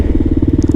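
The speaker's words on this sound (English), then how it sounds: "the Lex exhaust has enough of a grunt to it to let people know when you're there" Kawasaki KLR650 motorcycle fitted with a Lex exhaust, engine running with a steady, rapid low-pitched thumping pulse that stays close and loud throughout, with no voices.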